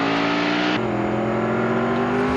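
A powerful car's engine revs hard and climbs in pitch, drops sharply at a gear change, then climbs again. The sound is loud and close, with no voices.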